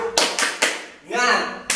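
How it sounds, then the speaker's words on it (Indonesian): A training group performs a rhythmic spirit clap, with a few loud, sharp clap bursts in quick succession, close and clear, alongside a chanted voice between the claps. "Kita tepuk semangat."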